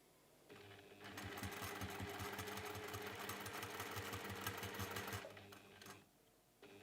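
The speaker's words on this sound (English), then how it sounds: "we're going to sew on both sides on there" A sewing machine stitches fabric for a folded pinwheel cushion cover, running in a steady rapid rhythmic whir for about five seconds before stopping, close but fairly quiet.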